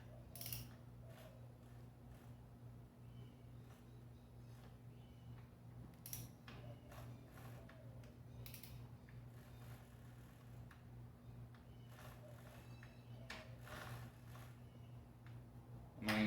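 A GY6 scooter engine is turned over slowly by hand with a ratchet, which gives quiet, irregular clicks and ticks over a steady low hum, with no talk.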